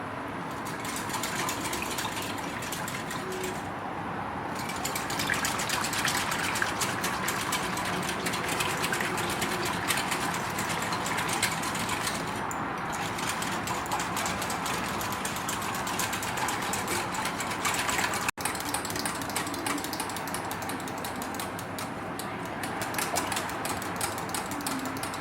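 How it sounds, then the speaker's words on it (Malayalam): A beater whirs steadily and continuously through a milk pudding mixture sweetened with sugar, a close, even mechanical buzz that holds without pause. "ഇത് നന്നായിട്ടൊന്ന് ബീറ്റ് ചെയ്തെടുക്കണം നമുക്ക്."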